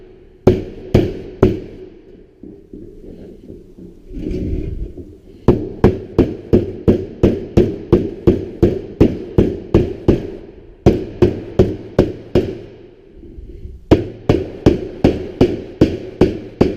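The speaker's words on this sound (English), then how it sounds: "At this point in time, I do like to use the side of the hammer, so it gives you a nice smooth edge." Sharp, ringing hammer blows strike a sheet metal elbow seam, the side of the hammer locking it over, in steady rapid bursts of evenly spaced hits separated by brief pauses with softer handling noise.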